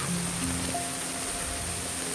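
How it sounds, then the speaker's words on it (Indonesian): Heavy rain pouring down outdoors, a loud dense continuous hiss with no break, with faint tonal hums underneath. "hujan deras sumpah"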